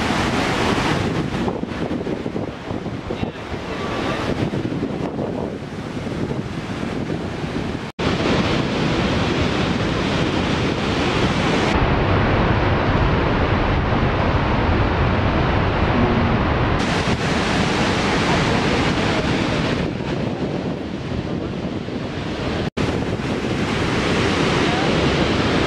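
Waterfall in Yellowstone roars as a steady, loud rush of falling water with wind buffeting the microphone throughout, no voices.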